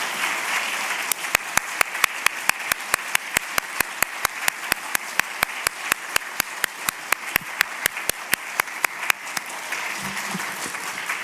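Congregation applauding after a sermon at a Kristallnacht memorial program: a broad wash of many hands joined by a rhythmic unison clap that beats steadily, then fades near the end.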